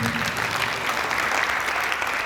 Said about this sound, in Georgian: ტაშს იმსახურებს.